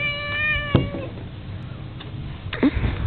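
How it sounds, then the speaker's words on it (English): A mean, whiny cat lets out a drawn-out, nasal meow up close, followed by quieter room sounds and a faint short cry near the end. "this is a mean and whiny cat."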